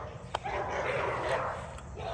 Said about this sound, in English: Dogs are having a fight